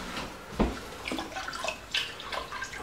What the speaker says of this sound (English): one can of water.